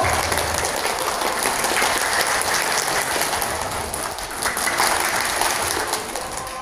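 An audience claps hands in a dense, continuous patter on command, a steady rain-like wash of clapping with no voices over it.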